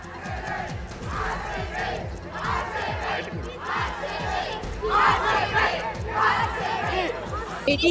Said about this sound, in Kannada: ಆರ್ಸಿಬಿ ಗೆಲುವಿಗಾಗಿ ವಿದ್ಯಾರ್ಥಿಗಳು ಜೈಕಾರ ಹಾಕಿದ್ದಾರೆ